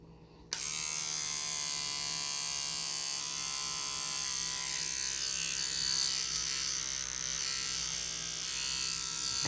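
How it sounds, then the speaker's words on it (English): A new electric toothbrush switches on with a sudden start and then buzzes steadily and loudly, close up, running continuously for about nine seconds with no one speaking. "And this is a new toothbrush I use."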